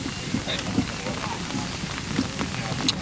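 Rain falls steadily during a 1998 Little League baseball game, a continuous hiss of drops on the surface with scattered small taps, fairly close and even throughout.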